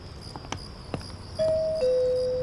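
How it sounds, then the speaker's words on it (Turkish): An electronic doorbell chimes two sustained tones in succession over faint room noise, following a few soft taps. "Hadi çal şu zili artık."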